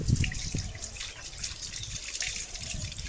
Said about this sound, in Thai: เทน้ำยาแชมพูเนี่ยนะคะให้ทั่วสุนัขนะคะ